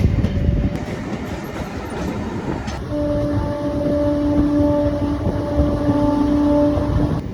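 Kakinada Port to Vijayawada MEMU Express 17258 rolling along, with a loud rumbling wheel clatter, then steady sustained tones rising over the running noise after a few seconds.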